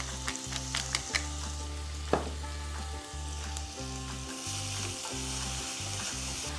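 Scallions and onions with salt and pepper sauté in a pan, giving a continuous close sizzle and crackle with occasional stirring scrapes beneath steady background music.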